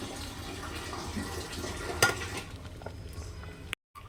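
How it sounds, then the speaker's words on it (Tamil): Hot water poured into a pot of cooking nombu kanji, the South Indian rice porridge, giving a steady watery stirring and bubbling wash with one brief louder splash before a sudden cut to silence. "இன்னும் கொஞ்சம் சுடுதண்ணி ஊற்றிக்கலாம் வேகிறதுக்கு வேண்டிட்டு"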